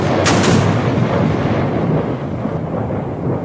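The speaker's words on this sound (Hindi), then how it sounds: "दुश्मन ने भी पलटकर अपनी आर्टिलरी, MMG और मोर्टार से हम पर आग करनी शुरू कर दी।" Battle sound effect of artillery, machine gun and mortar fire: a heavy booming blast at the start, then a deep rolling rumble that slowly fades.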